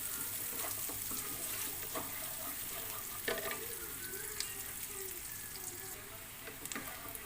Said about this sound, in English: we just saute this until the onion gets translucent or like golden brown